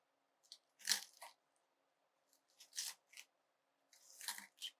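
Green onions (scallions) cut with a knife on a board during turkey chili prep: a few crisp crunching chops in three short bursts, close and clear, with no talking.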